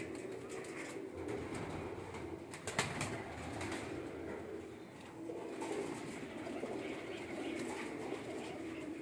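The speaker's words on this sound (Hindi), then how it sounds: "बैठा हुआ कबूतर है जी।" Pigeons cooing on a rooftop loft, a steady low murmur of several birds close by with a brief wing flutter partway through, continuous throughout.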